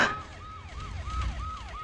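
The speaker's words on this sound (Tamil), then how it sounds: "சைலன்ஸா சைரன் பாரு கேக்குறா" Siren of an approaching emergency vehicle, a rapid rising-and-falling wail repeating in quick cycles over low road rumble, fairly loud and steady throughout with no talk.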